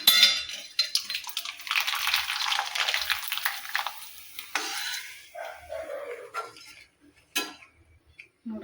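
Masala rava papad dropped into hot oil, giving a loud bubbling sizzle that fades over several seconds, with occasional clinks of utensils against the pan; no talking.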